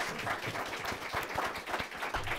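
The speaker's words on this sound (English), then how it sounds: "Let's have a round of applause for our speakers" An audience claps for panel speakers at a policy forum, a brief stretch of steady, fairly soft applause with overlapping hand claps throughout.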